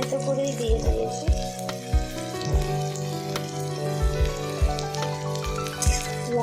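Onion and crushed garlic sizzle steadily in hot oil in a pan for red amaranth greens with mung dal bori, with sharp pops and spatters breaking through the close, continuous frying hiss.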